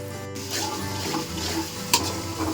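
Sliced ginger and green chillies fry in a pan over a medium flame for rava upma, a steady close sizzle with stirring scrapes and one brief clink near the end.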